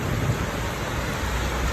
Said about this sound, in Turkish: bunun bu kadar böyle şiddetli yağdığını bakmayın